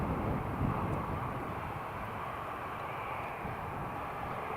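An EasyJet airliner taxis slowly at Newcastle International Airport, a faint, steady engine rumble and hum heard from a distance, unbroken and without voices.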